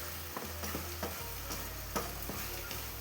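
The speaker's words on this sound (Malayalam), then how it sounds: "അപ്പോൾ അത് ഞാൻ ഇതിലേക്ക് ഇട്ട് കൊടുത്തിട്ട് ഒന്ന് ഇളക്കട്ടെ" Banana halwa stirred in a frying pan, with a spoon scraping the pan in a steady repeated rhythm over a constant low sizzle, close up and without talk.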